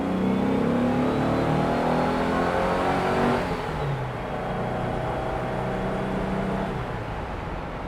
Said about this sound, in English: And we'll do a full throttle run.